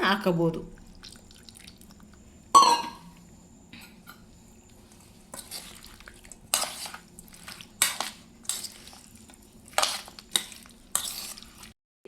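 Raw Totapuri mango pickle being mixed by hand in a vessel: scattered scraping and clinking strokes, a few sharper and louder than the rest, over a faint low hum.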